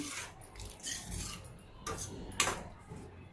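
A spoon clinks and scrapes against a pot as cooked ridge gourd and tomato are stirred together, with a few soft knocks and a brighter metallic tap near the end.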